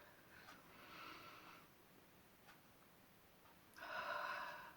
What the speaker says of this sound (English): Let us take a deep breath on that.